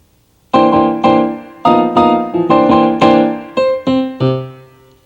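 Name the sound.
Korg 03R/W synthesizer program A09 playing with effects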